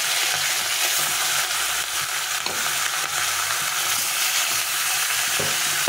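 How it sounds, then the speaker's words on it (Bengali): Fish pieces, with the fish bones added first, frying in hot oil in a pan; a steady, dense sizzle carries on throughout with a few faint stirring knocks and no voices. "তারপরে মাছগুলোকে ভেজে নেব।"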